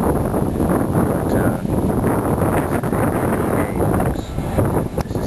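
Gusty wind buffeting a small craft out on the water under a small craft advisory, a loud continuous roar of wind noise across the microphone with brief surges, no talk.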